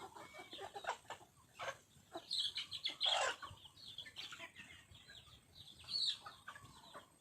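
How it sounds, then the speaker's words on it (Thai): Several chickens cluck and chatter close by while being fed, with sharp bursts and softer murmurs overlapping, plus a few higher calls, no talking. "นี่นะคะป้าก็ให้อาหารน้องไก่ป้าแล้วนะคะ"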